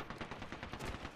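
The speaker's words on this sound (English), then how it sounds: "Oh, you're getting shot at." Rapid automatic gunfire in Apex Legends, a quick rattling burst of shots, fairly faint and compressed, over about a second.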